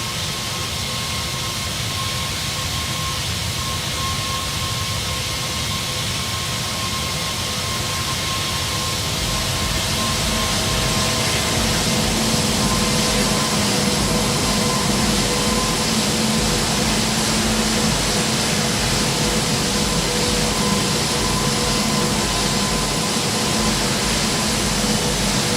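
Toliss A321 jet engines rolling in X-Plane 12, a steady broadband roar with a low rumble and faint whine, growing slightly louder partway through and holding continuously to the end with no talk.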